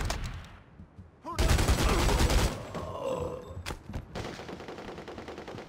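Bursts of automatic gunfire from a firefight in The Godfather II, set during an attack on Fidel Castro, start after a quiet opening, crackle loudly for about a second, then fall back to scattered shots and rumbling background battle.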